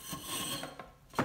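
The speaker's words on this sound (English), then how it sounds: "Bumper plates slide on there now." Bumper plates with Olympic 2-inch openings scrape and slide onto an adapter sleeve on a Valor cable machine, a close, loud grinding rub ending in a sharper knock.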